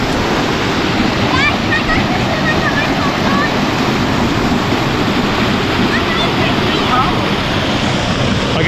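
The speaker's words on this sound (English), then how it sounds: "It's got its own little waterfall." A small waterfall at a creek crossing rushes in a steady, loud, unbroken roar, close by, with some wind noise on the microphone.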